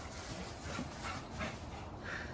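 Dog pants in quick, rhythmic breaths after a bout of zoomies, close and moderately loud over a steady outdoor background, with no one speaking.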